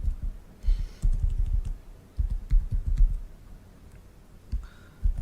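Someone types code on a computer keyboard in quick bursts of close, crisp key clicks, with short pauses between runs of keystrokes.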